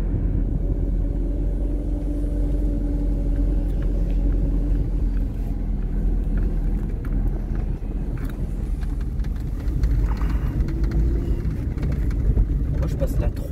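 A Fiat 124 being driven produces a continuous low engine drone and road rumble from inside the car, with people talking over it.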